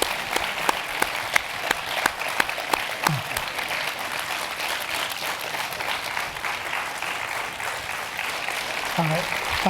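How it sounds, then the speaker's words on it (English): Sustained applause from an audience at the YALCON 2019 gathering, dense steady clapping with a few sharper claps standing out throughout. "I want to give Mr. Charles a round of applause for being here with us"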